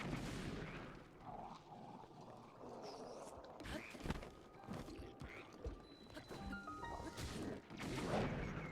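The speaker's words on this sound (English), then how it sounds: "you throw the bomb barrel at them, all the other bomb barrels explode" Bomb barrels go off in a chain in a Zelda video game, heard as a dense run of crashing blasts and thuds over game noise, with some voice in the background.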